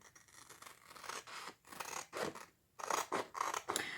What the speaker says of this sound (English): along these white lines, you just cut it.